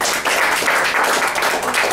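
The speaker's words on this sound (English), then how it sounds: "Give him a round of applause" A crowd at a breakfast gathering gives a loud, continuous round of applause, many hands clapping densely and close.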